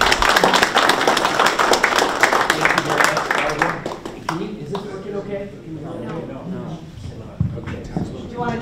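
An audience at a community forum applauds a speaker, with dense clapping for about four seconds that then fades as a voice begins talking.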